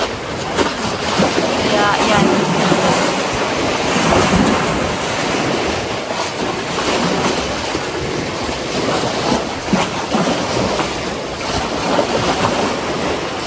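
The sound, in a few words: sea waves at the beach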